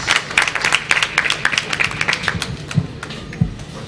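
Scattered, sparse clapping from an event audience welcoming a professor on stage, individual claps distinct and uneven rather than a dense roar, with faint thumps underneath.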